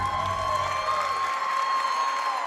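Arena crowd at a Maryland versus Ohio State gymnastics meet cheers and applauds after Ella Hodges finishes her routine, a steady, full roar with clapping and shouts, fairly loud and continuous.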